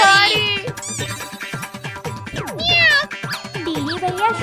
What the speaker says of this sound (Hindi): बिल्ली मौसी की आवाज आ रही है